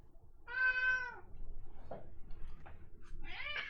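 A house cat meows clearly several times, with drawn-out, rising and falling cries and short gaps between them, close and fairly quiet, with no talking.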